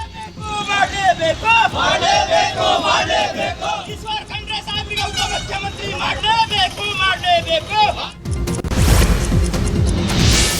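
Congress party workers chant slogans in support of Siddaramaiah and Mallikarjun Kharge, a loud crowd shouting in rhythmic unison bursts, followed by a sudden noisy roar near the end.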